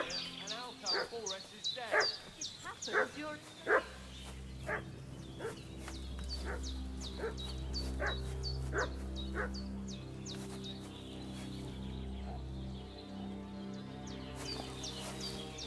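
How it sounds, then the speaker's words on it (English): Dog in the medieval video game Kingdom Come barking repeatedly in sharp, loud bursts that become a steady rhythmic series, set against a low musical drone and bird calls. "What's that dog making such a fuss about?"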